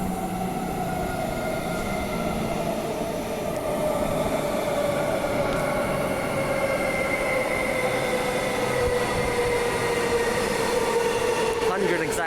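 A train rumbles steadily on rails with a continuous low roar and a slowly falling tonal whine from the wheels, plus brief squeals near the end, and faint voices in the background.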